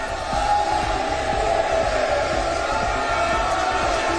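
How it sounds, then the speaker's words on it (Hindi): Thunderous applause and cheering fill India's new parliament chamber as Prime Minister Modi arrives, a dense, continuous crowd roar with rhythmic clapping underneath. "और पूरा सदन तालियों की गड़गड़ाहट से गूंजने लगा।"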